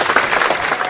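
A round of applause from the audience at a football club shirt launch event, dense even clapping heard close and alone for a brief moment.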